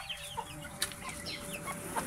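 Rhode Island chickens cluck and murmur in a backyard coop with roosters among them, a cluster of soft, close, irregular clucks and short calls over a constant low background hum.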